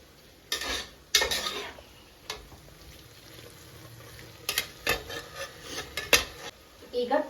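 Sliced tomato roasting with masala in a pan, heard as soft sizzling under scattered clinks and scrapes of a utensil stirring against the metal, with a few sharper knocks; no talking.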